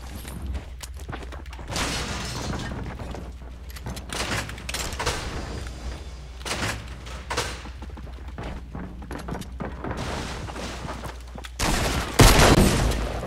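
Gunfire in the video game Fortnite: a string of sharp bursts and thuds spread across the clip, with a louder, denser burst near the end, heard alone with no talk.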